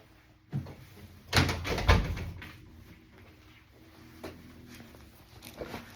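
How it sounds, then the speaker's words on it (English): An indoor door is pushed shut at home, giving a couple of solid thuds and a latch click close by, followed by quieter room noise and faint handling sounds. "Let me close this door."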